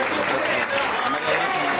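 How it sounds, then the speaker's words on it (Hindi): Audience applause at a leadership gathering in Ayodhya, a loud, dense wash of clapping and crowd noise filling the whole moment, with the crowd's voices mixed in. "जोरदार तालियां।"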